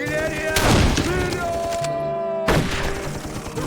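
Artillery fire in the battlefield video game Darkest of Days, two heavy booming blasts with crackling debris, mixed with shouted voices in the game.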